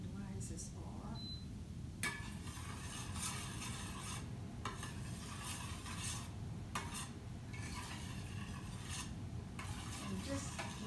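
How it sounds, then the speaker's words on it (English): A spoon stirs herbs around a warm pan in a home kitchen, steady scraping and swirling with brief sizzle underneath, repeated in bursts over about ten seconds, with a person talking quietly over it. "I'm going to stir those herbs around."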